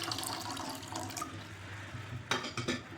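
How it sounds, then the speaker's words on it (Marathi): Water poured into a cooking pot set on a gas stove, a close, continuous splashing pour lasting a few seconds, with no voices. "तर आता गॅसवर एक भांडं ठेवले, त्यामध्ये पाणी घालायचे"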